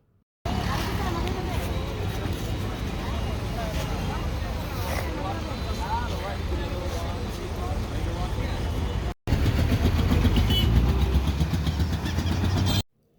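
A vehicle engine runs in a steady mid-pitched drone on the way to a bus stand. It breaks off briefly near the end and comes back louder, with a hum of background chatter.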